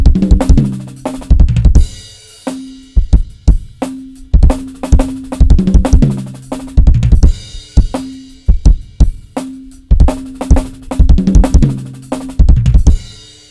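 A drum kit plays a fast, intricate intermediate-to-advanced chop: rapid bursts of kicks, snare and toms hit in dense clusters, punctuated by short pauses and cymbal crashes, loud and close with no talking.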